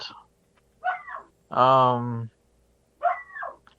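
A dog barks a few times at a distance in a quiet room, with a longer whining or yelping call in the middle; no speech overlaps the barks.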